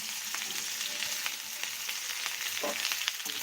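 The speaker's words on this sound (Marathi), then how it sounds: "इथं आपण चिरलेला आहे उभा कांदा कांदा फोडणीमध्ये घातला" Sliced onion hits hot oil with garlic already browning in it, giving a close, continuous sizzle with scattered spoon clicks and scrapes as the mix is stirred.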